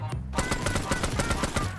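An M2 heavy machine gun fires in ArmA 3 SOG, a loud sustained burst of rapid, evenly spaced shots with no pause through the whole stretch.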